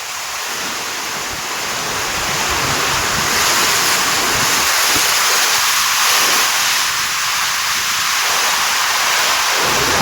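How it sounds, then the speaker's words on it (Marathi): Dense, roaring rain from a cloudburst with hail drums steadily on a leaking tin roof, a loud continuous wash of noise with no pauses. "आवाज कसला येतो बाजी पत्र्यावर पावसाचा"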